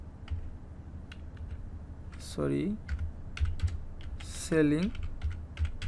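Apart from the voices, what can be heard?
typing a title on a computer keyboard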